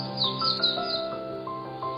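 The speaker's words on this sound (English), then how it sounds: "Swinhoe's white eye makes a chirping sound. Its singing is actually quite nice." A Swinhoe's white-eye gives rapid high chirps and thin twittering notes, close and clear over a low steady hum.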